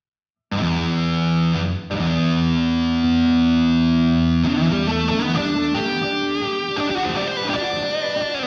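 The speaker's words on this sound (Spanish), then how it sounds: "Vamos a dejar el puro reverb." A distorted electric guitar played through a free virtual Soldano SLO 100 amp simulation with reverb rings out in loud sustained chords, a short pause, then a denser strummed passage with a spacious tail.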